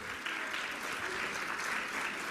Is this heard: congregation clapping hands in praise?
yes